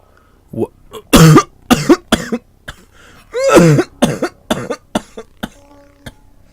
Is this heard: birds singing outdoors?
no